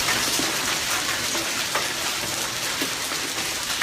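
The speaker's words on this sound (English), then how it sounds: "Strong winds and heavy rain made it difficult for drivers on the east side." Heavy rain from a storm in southern Arizona pours down steadily, a dense, loud hiss with scattered drop impacts and no pauses throughout.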